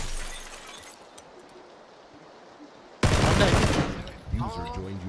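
Gunfire in the video game PUBG: after quiet, a sudden loud burst of rapid shots with shattering glass, followed by a voice talking.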